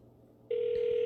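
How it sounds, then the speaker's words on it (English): A ringback tone on an outgoing telephone call cuts in halfway through, a steady loud electronic ring over faint background hum. "Oh, it's ringing."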